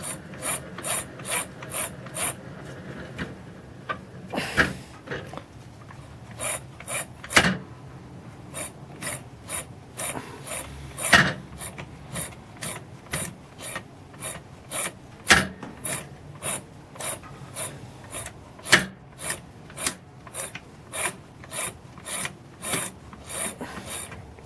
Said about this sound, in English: So watch the mechanism, how it's spinning.